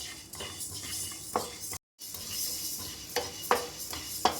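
Spices for homemade sambar powder roasting dry in a pan, with soft scraping stir strokes and light rustling, a few sharper clinks of the spoon against the metal, quiet and close, broken by a short gap of silence.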